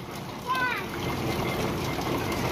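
Rainwater splashes steadily as it is poured from a bucket into a tank, a continuous nearby wash of water with children's voices talking over it.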